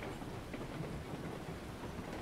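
Steady rain falls in RailRoads Online, a dense even hiss with a low rumbling undertone, continuous and faint throughout.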